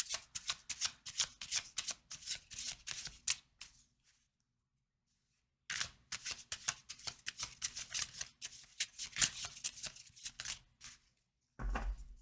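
Tarot cards are shuffled close up in quick, crisp riffles. Two bursts of shuffling are split by a few seconds of silence, and a brief thump comes at the end.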